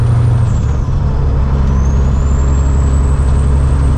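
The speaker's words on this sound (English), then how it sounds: "Driving Dad's truck." A truck being driven, with loud low engine drone throughout and a high air-brake hiss that fades in the opening half second, no talking.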